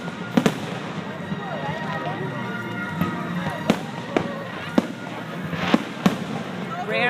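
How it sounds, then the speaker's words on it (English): July 4th-style fireworks set off on June 21st in Branford, a series of sharp booming bursts at irregular intervals over a continuous crackling and crowd-like background murmur, some blasts noticeably louder. "the scene of July 4th fireworks on June 21st"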